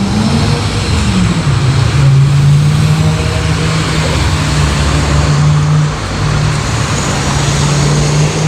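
Cars passing at a road crossing without traffic lights in Germany, a loud steady engine hum with a low droning tone rising and settling, traffic noise continuous throughout.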